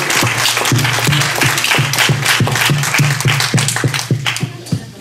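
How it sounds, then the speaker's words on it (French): Dense, continuous audience applause at a live stage show fills the room with steady many-handed clapping, loud and close, with a few individual claps standing out near the end. "je voudrais vraiment que vous applaudissiez Patricia Davies pour tout ce qu'elle fait"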